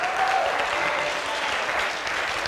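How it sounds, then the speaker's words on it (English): A church congregation gives a men's chorus a sustained round of applause, dense and steady clapping that fills the room without pause over a couple of seconds. "Give the Lord a big hand clap for our men's chorus this morning"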